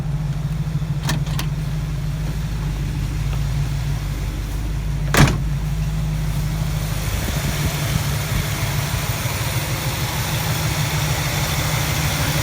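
A Duster 360 V8 with a noisy lifter idling: a smooth, low, steady hum, quiet and even with no clacking, broken by a brief door or latch clunk partway through and a soft click earlier.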